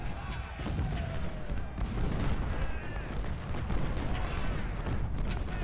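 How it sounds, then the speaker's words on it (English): Artillery fire in the Civil War strategy game Ultimate General: Civil War, a dense rumbling barrage of booms and crackling volleys, loud and continuous throughout. "It is nice having some artillery cover"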